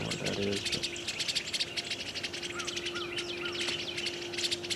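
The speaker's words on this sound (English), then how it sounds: "The birds are singing." Birds chirp and sing in morning woods in Georgia, several calls overlapping near and far over a steady insect drone, with a brief low rustle at the start.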